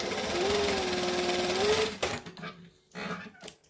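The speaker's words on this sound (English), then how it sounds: "then I'm going to chain stitch it" A sewing machine chain-stitches a seam on shorts, running steadily for about two seconds, then stopping and giving a few shorter bursts, loud and close.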